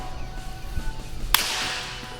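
A single sharp kendo shinai strike swung with too tight a grip, one loud crack cutting through quiet room noise and followed by a brief hissy decay.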